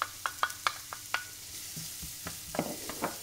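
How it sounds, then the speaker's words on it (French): Shallots cook in butter in a pan over low heat, a quiet sizzle broken by sharp clinks and scrapes of a utensil stirring against the metal, with no talking. "on prend une poêle, un peu de beurre, on met nos échalotes à revenir en premier."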